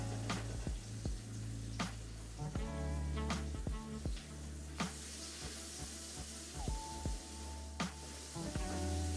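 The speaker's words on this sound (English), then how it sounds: "this is going to bubble until it's completely dry, and you're going to get to hear the sound of what is called the sofrito" Paella sofrito bubbles and sizzles in a wide pan over medium heat, a continuous close frying hiss broken by sharp pops and spoon clinks as it is stirred.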